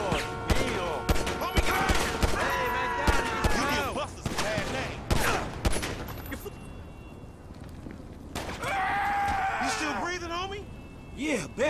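Gunfire in the video game GTA 5 erupts in loud bursts and rapid volleys during a shootout, mixed with game effects and shouting voices.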